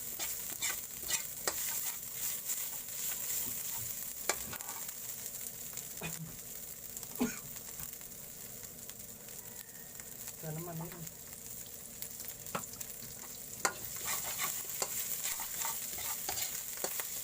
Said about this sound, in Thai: ผัดไปเรื่อยๆครับ